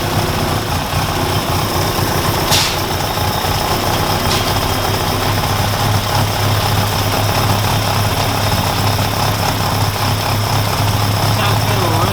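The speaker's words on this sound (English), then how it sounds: "Got a fast road cam, which might be why the idle's a little bit lumpy." A Mk1 Ford Fiesta engine with a fast road cam and Weber carburettor idles with a lumpy, uneven beat, a steady low rumble running throughout, with a few faint clicks on top.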